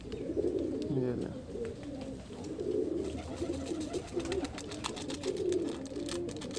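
Breeder pigeons kept in a cage coo steadily and close by, their soft, rolling calls continuing without a break over faint background noise.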